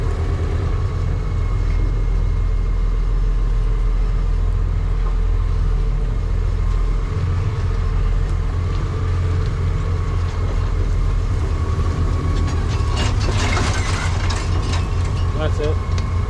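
A lawn mower drives along a narrow path, its engine holding a steady low drone close by for the whole stretch, with a brief burst of rattling mechanical noise near the end.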